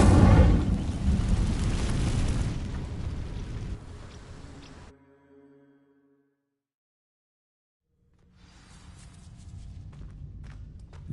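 An Incendio fire spell sets dry vines alight in Hogwarts Legacy, a loud roaring whoosh that fades to near silence before a softer crackle returns.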